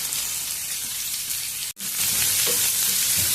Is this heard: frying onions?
yes